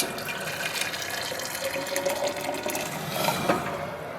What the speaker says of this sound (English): That's my boiling water.